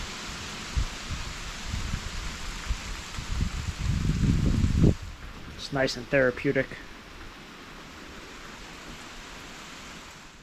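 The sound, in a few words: light summer rain shower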